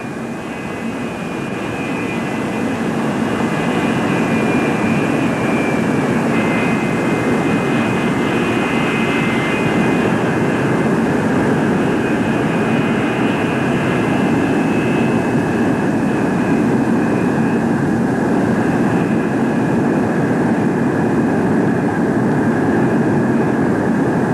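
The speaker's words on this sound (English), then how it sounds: "Here's the second landing of the day, very similar to the first" A Convair F-102 delta-wing jet lands with a sustained, loud jet engine roar that swells in the first seconds and then holds steady, with a whining high tone running over the broad rumble.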